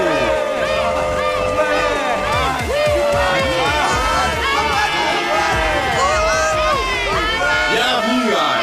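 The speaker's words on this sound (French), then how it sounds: "Applaudissez-le." A studio audience at a televised singing competition stage cheers and shouts loudly as a contestant walks on, a dense, continuous crowd roar with whoops and voices rising over it.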